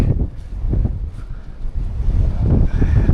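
Wind gusts up a snowy mountain edge in winter, heavy buffeting roar and rumble against the microphone that swells and eases in irregular surges.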